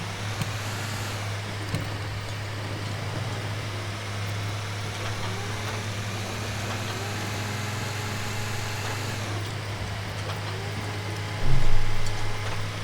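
A car engine in Grand Theft Auto V drones at a steady idle, with a constant low hum and broadband mechanical noise throughout and a brief louder surge near the end.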